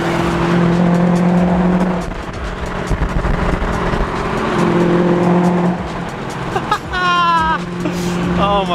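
A BMW E30 fitted with a swapped LS1 V8 engine drives nearby, its deep engine note rising and falling with throttle and a sharp rev near the end, with someone talking over it.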